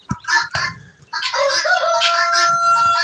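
A guinea fowl, an African ground bird, lets out loud, harsh cries close by: two sharp clipped calls, then a longer strained, wavering shriek that runs to the end.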